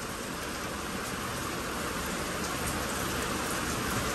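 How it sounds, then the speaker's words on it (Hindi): Steady rain falling at a lodging in Vagaon, a dense, even hiss of drops on surfaces that stays constant and fairly loud throughout, with no voices present. "यहाँ तो बारिश और भी खूबसूरत लग रही है मुझको"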